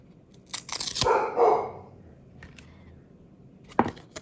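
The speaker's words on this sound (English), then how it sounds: "the dogs are finding something to bark about" Dogs barking outdoors in the morning, a quick burst of barks early on and one more sharp bark near the end, faint to moderate behind a soft background rustle.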